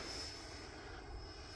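An E-flite Viper 90mm RC jet flies at full throttle while climbing, producing a faint, distant, steady roar of the ducted fan with no voices over it.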